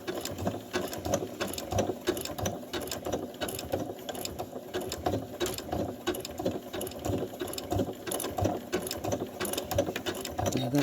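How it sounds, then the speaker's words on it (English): A sewing machine runs steadily while stitching a binding, its fast mechanical chatter continuous and fairly quiet, heard close up for about eleven seconds without speech. "I need to sew right to the end of here"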